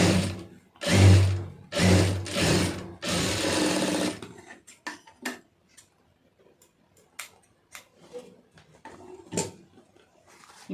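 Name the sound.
sewing machine stitching fabric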